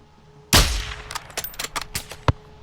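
A sniper rifle fires in Call of Duty: Modern Warfare 2, one loud booming shot followed by a scatter of metallic clicks and clanks as the bolt is worked and shell casings fall.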